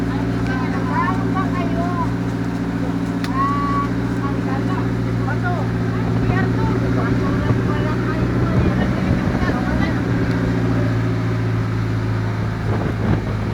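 A boat engine drones steadily and loudly on a trip out to Marapipi Island, a low constant hum with wind buffeting the microphone, while people talk over it throughout.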